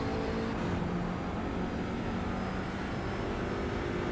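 An Audi RS3 TCR engine roars at full throttle in the iRacing sim, a dense, continuous loud drone that holds steady with no breaks.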